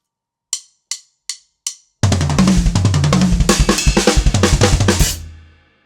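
Drum kit playing a fast chop: four count-in clicks, then a dense burst of rapid snare, tom and cymbal hits for about three seconds ending on a ringing crash that fades.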